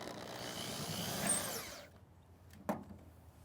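A power drill whines as it drives self-tapping screws into a metal downspout diverter for a rain barrel, then stops, followed by a single sharp knock; no one speaks.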